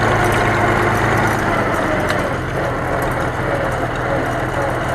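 A Hart Parr Oliver farm tractor with a 6-cylinder Continental engine idles close by, a steady, unbroken rumble that holds an even level from start to finish.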